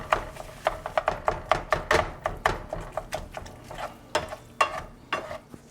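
A utensil chops ground beef on a Ninja Foodi Smart XL grill, a steady run of sharp, close clacks and scrapes against the cooking surface over a faint sizzle.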